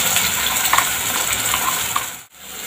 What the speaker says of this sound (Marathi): आणि मसाला पण छान असा तेलात मस्त असा परतून घ्यायचा